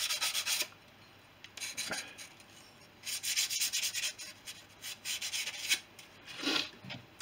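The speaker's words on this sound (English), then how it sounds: "final bit of a polish on that edge." An aileron bell crank edge for a Fisher Youngster V aircraft being polished by hand, close-up bursts of scratchy rubbing strokes in an irregular rhythm separated by short quiet gaps, with no talking.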